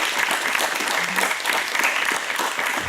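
An audience claps steadily for a few seconds, a dense wash of applause with no voices on top.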